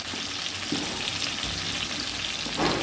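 Onions, mint and coriander fry for black masala chicken, giving a dense, continuous sizzle with occasional stirring scrapes, close and fairly loud throughout.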